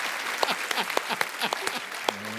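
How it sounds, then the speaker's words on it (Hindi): Studio audience applause on a television comedy show, a brief burst of scattered, uneven claps with a voice speaking underneath. "ठोको ताली।"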